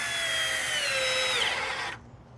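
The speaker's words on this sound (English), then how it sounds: "It is in the drill mode for the screwdriver." A Milwaukee cordless screwdriver runs in drill mode with a steady, loud, high motor whine, dipping slightly in pitch before it stops abruptly after about two seconds.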